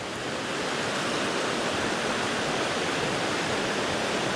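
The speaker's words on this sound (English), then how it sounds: "Got a river coming down from here, one coming from here in the middle" Noland Creek in the Great Smoky Mountains rushes down through the forest with a steady, full hiss of flowing water. The sound stays even and continuous throughout, with no voices over it.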